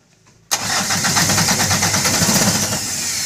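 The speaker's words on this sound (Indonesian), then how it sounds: "Hidupkan mesin ya starter." A 1997 microbus engine cranks on its starter and catches abruptly, then settles into a steady, loud mid-pitched running rumble with a faint rhythmic pulse, heard up close without talk.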